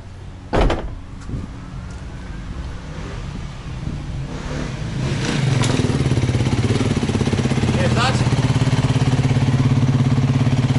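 A new 300 motorcycle's engine starts up and settles into a steady, close idle that runs unbroken through the second half, after a few knocks and rattles at the start.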